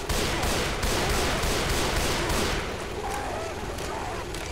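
Rapid gunfire from Left 4 Dead 2, dense repeated shots for about two and a half seconds, then thinning into quieter background game noise.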